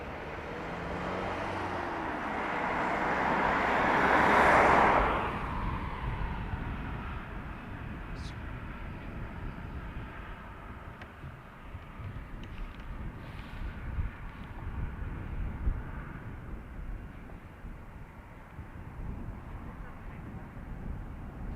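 An Aer Lingus airplane at Dublin Airport, a broad jet roar that swells and peaks early and then settles into a steady distant rumble, with a person talking over it.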